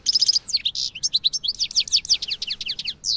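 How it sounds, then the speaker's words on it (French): A small bird outdoors in Picardie chirps in rapid, bright tweets, trilling runs and repeated notes, loud and close, with no other sound around it. "j'ai été troublée par un oiseau"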